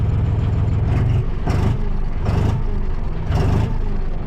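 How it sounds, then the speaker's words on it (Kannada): A John Deere 5045 D tractor's diesel engine idles loudly up close, a deep steady throb with rhythmic heavier pulses roughly every second, running alone without speech. "ಈ ಒಂದು ಸೌಂಡ್ ಇದೆಯಲ್ಲ ಈ ಒಂದು ಜಾನ್ ಡಿರಿಯ ಒಂದು ಫೀಲೇ ಬೇರೆ"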